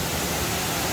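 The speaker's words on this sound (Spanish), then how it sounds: "Llegamos aquí a la cascadita" A small jungle waterfall in Indonesia pours in a steady, loud, broadband rush of falling water with no break or variation.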